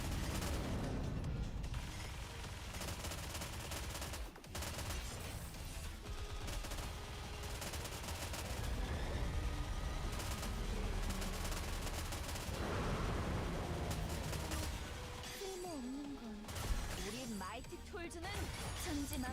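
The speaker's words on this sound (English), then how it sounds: "my team hasn't fallen asleep and stopped shooting anything" A squad of characters keeps firing weapons in the Nikke video game during a solo raid, with a steady barrage of rapid shots mixed into game music and effects, loud and continuous throughout.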